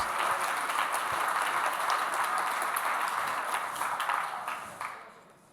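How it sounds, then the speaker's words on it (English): An audience at a lecture on American state capitol architecture applauds, steady dense clapping that holds for several seconds and then tapers off to quiet. "So let's have a round of applause for all 55 capitals."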